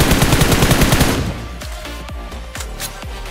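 Gunfire during a PUBG Mobile match, loud and close, dense rapid shots at first and then several separate booming reports with fading tails.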